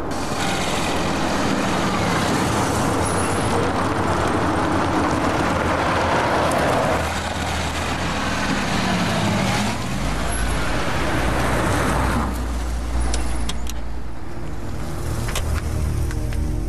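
Steady, loud roar of road traffic on a busy, jammed city street, continuous throughout with a shifting engine rumble and no talking.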